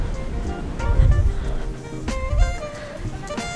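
Waves on a beach at Morong, Bataan, rolling in with two swelling surges over steady wind rumble, close and fairly loud, with no clear talk.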